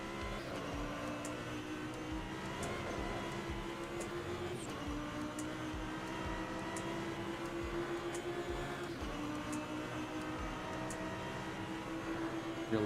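Race car engine in a racing sim, a steady sustained drone with a held pitch that dips slightly around the middle and recovers, continuous and fairly close throughout, no voices.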